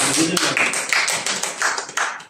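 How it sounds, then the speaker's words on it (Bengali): A short round of clapping from an audience at a nutrition therapy talk, heard as a series of sharp, fairly close claps in quick succession with a voice faintly present beneath. "একটা হাততালি দেন সৃষ্টিকর্তা"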